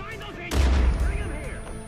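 A grenade goes off in Far Cry 5 as a single booming blast with a deep rumbling tail. It follows softer background game sounds and fades over under two seconds.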